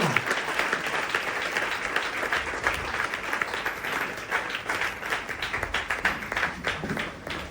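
A church congregation claps loudly and continuously in praise during a worship service, a dense steady applause from a crowd with a few voices faintly underneath.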